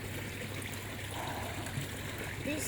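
Pumped water trickles steadily into a metre-deep garden pond, a continuous soft splashing and dribbling stream heard close by without any talk.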